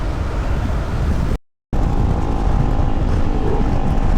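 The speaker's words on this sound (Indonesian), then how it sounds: "Wah, di sini gua disalip sama Revo ternyata. Iya, kencang banget guys." A Honda Revo motorbike speeds past on a mountain touring road, its engine a steady loud roar that briefly cuts out and then returns, droning on with road and wind noise.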